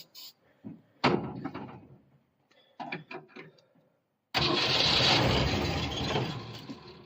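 A 1965 Ford Falcon with a three-on-the-tree manual column shift, its starter cranking in short bursts before the engine catches and roars steadily and loud up close.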